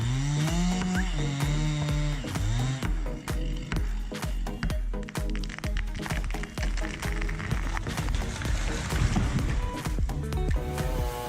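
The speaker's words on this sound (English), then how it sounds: "Huge blocks of wood were cut down by saws with fast speeds and sharp blades." Big powered chainsaw machines cut through massive blocks of wood in a forestry operation, with loud, rapid repeated cutting bursts and sharp percussive hits over a steady engine drone, close and continuous without speech.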